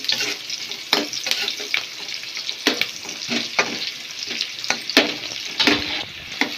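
Onions sizzle steadily in a hot pan while a utensil scrapes and stirs at irregular intervals, close and clear.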